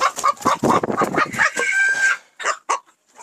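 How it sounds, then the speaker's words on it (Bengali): A Turkish Sultan chicken on a hobby farm clucks and calls close by, a rapid run of loud clucks rising into a drawn-out crow-like note, then a few short clucks. "অসাধারণ একটা মুরগি।"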